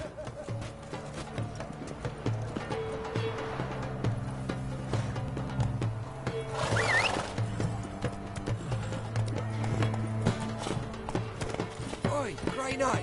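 Horse hooves clip-clopping at a steady pace in The Witcher video game, a continuous rhythmic clatter with game sound and a voice in the background.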